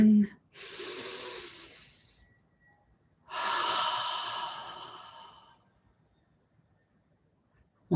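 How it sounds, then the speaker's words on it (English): Two slow, airy breaths during a guided meditation, each a soft drawn-out breathy hiss lasting about two seconds, separated by a quiet pause, close and alone. "breathing in."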